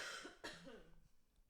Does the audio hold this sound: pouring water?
no